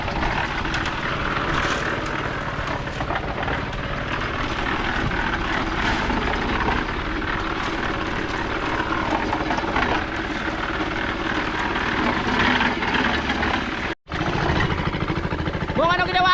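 A cement mixer's motor runs in a steady, droning roar at close range for the whole stretch, drops out for a moment, then comes straight back, with people talking over it.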